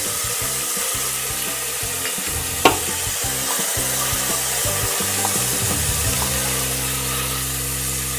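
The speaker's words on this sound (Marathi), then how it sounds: "यावर आता टोमॅटो घालूया आणि परतून घेऊया।" Tomatoes and ginger-garlic paste sizzle in a hot pan, a steady close frying hiss with a single sharp clink of a spoon partway through and soft stirring scrapes.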